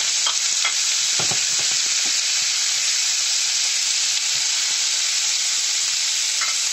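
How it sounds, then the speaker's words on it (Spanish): Pork pieces sear in very hot oil in a pan, a dense steady sizzle and crackle running throughout, close and loud, with a few sharper spits early on and no talking. "Con el aceite bien caliente vamos a sellar la carne para que salga doradita."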